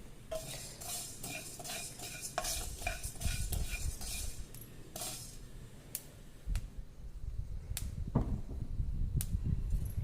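Mustard seeds hit hot oil for a mango pickle, crackling and sizzling under rapid metal spoon clinks and scrapes against the pan, near and steady throughout.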